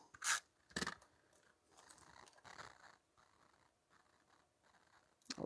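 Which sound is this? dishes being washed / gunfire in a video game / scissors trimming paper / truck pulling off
scissors trimming paper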